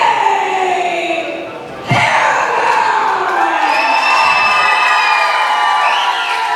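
A large crowd at a wrestling tournament event roars and cheers loudly and continuously for a fighter, with shouts and whoops rising after a brief dip, the noise swelling into a sustained din.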